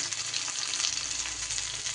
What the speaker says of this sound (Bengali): যারা একটু তেতো কম খেতে পছন্দ করেন সেক্ষেত্রে কিন্তু উচ্ছেটাকে একটু বেশি ভালো করে ভেজে নিতে হবে